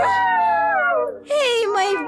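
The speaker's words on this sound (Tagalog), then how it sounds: "Bakit kumaalulong ang mga aso ko?" Dogs howl in a drawn-out, wavering tone that slides downward. A second rising howl overlaps near the end. The sound is loud and close.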